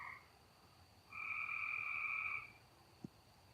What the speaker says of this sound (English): Kind of nice hearing the frog.